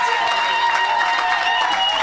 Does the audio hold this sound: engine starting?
no